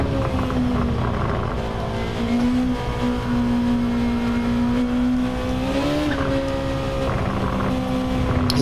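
A Honda NSX Type R engine in a racing video game at Suzuka, holding a steady high drone through the esses with small pitch dips and rises as the throttle is modulated, loud and continuous.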